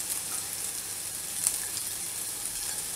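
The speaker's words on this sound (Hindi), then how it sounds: "अदरक और लहसुन की पेस्ट डाल दूँ। अच्छे से ब्राउन होने तक इसको" Ginger garlic paste fries on a tawa with a faint, steady bright hiss of sizzling and one brief louder crackle, nearby and soft, no voices.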